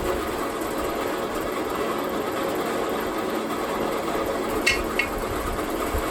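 Drill bit boring through the metal of a Harbor Freight breaker bar, a steady whirring, grinding drone with a couple of sharp metallic clicks near the end.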